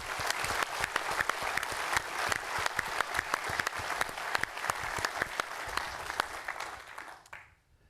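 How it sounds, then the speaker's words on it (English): Dense, steady audience applause fills a hall at the opening ceremony of the Feringa Building at a university. The clapping runs loud and continuous for about seven seconds, then fades out quickly at the end. "let's give them a warm applause"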